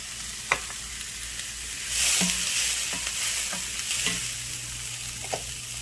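Ground beef sizzles steadily in hot olive oil in a pan, with an even frying hiss and occasional clicks and scrapes of stirring.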